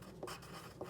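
Pen or pencil writing words by hand on paper, with two short scratchy strokes standing out against a quiet background, close and faint.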